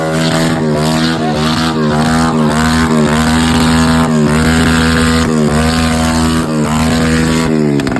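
A motorcycle engine gives a loud, steady drone with a strong harmonic hum that holds throughout, rising and falling slightly in pitch as it revs.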